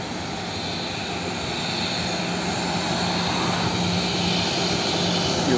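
An airplane taxis at Guangzhou Baiyun International Airport at night, a steady, loud engine drone with a faint whine that builds gradually as it draws closer.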